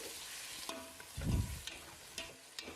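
Chopped tomatoes fry with masala in a pan, giving a soft, faint sizzle broken by a few light stirring scrapes and one brief, louder low rumble of movement.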